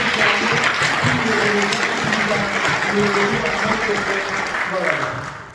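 Long, steady applause from a church gathering congregation in Dallas, loud and continuous with voices mixed in, tapering off at the end.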